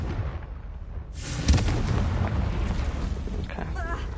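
A Confringo blasting spell explodes in the Hogwarts Legacy video game, a loud broadband boom that hits suddenly and is followed by a sustained rumbling roar with crackling debris.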